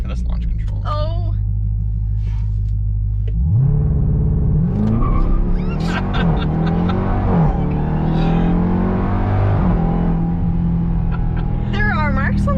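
A 2021 Dodge Durango SRT Hellcat launches under launch control, a deep idling rumble rising into a loud roaring surge of acceleration with gear-shift dips, while people talk over it inside the cabin.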